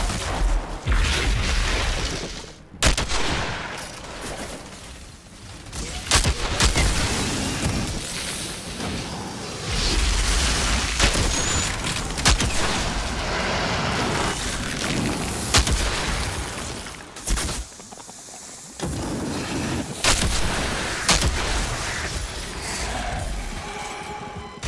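Enemy gunfire in the shooter game Outriders roars almost nonstop. Dense, loud bursts of shots mix with booming explosions and heavy impacts, easing only briefly a few times before the firing surges again.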